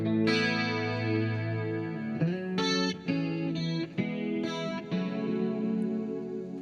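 Clean electric guitar played with a chorus effect, sustained shimmering chords ringing alone at steady volume, with a few chord changes over several seconds.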